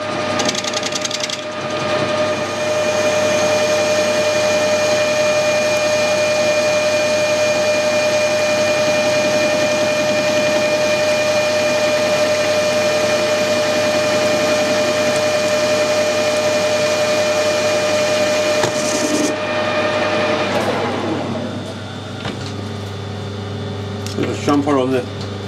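Metal lathe turning and parting off a steel bush for a weld repair, a steady loud machining drone with a constant tonal whine for most of the clip, stopping near the end as shop clatter and handling noises follow.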